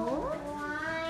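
A pet cat gives a single drawn-out meow nearby, its rising and falling tone clear against a quiet indoor room with no talking.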